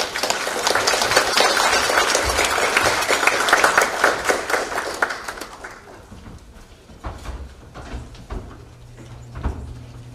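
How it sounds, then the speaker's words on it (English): Applause for student presenters at a humanities symposium, a strong round of clapping that fades out after about five seconds, followed by a few scattered claps and quiet room noise. "So let's give a round of applause for them."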